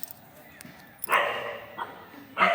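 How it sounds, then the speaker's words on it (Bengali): Several dogs bark in loud, close bursts at a monkey, with a short yip between the main volleys. "এখানে কুকুরগুলো জটলা পাকিয়ে আছে, নামলেই ধরবে।"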